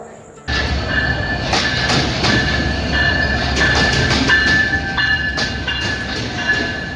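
Khulna-bound intercity express, the Simanta Express, rolling into Natore station at night, a loud continuous rumble of wheels and carriages with squealing tones and clatter, close by and steady throughout after a brief quiet start.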